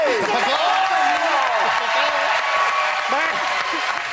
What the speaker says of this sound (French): On applaudit Normand Brantois.